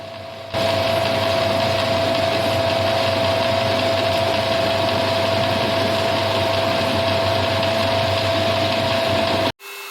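A metal lathe turns a steel bolt down to 21 millimeters for a threaded boss, giving a steady, loud mechanical whine with a constant tone that runs unbroken and then cuts off abruptly near the end.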